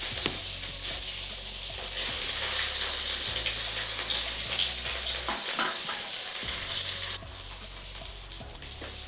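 Water spinach fritters crackle and sizzle in hot oil with continuous close frying noise, broken by a few clinks and stirring sounds and a short quieter gap midway.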